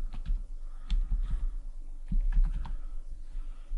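Someone types on a computer keyboard up close, producing irregular clusters of quick soft key clicks with brief pauses between bursts.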